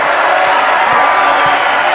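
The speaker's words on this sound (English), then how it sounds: "the crowd loves it" A basketball crowd roars and cheers in a college gym after a three-pointer, a steady dense wash of voices with no pauses, loud throughout.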